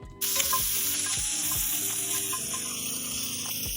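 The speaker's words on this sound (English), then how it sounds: "we'll put our bacon in, and we are going to just kind of slowly cook that until the fat is starting to render" Bacon lardons frying in a pan for Louisiana dirty rice, a steady close sizzle of rendering fat that starts abruptly and holds loud throughout with faint scraping underneath, no voices.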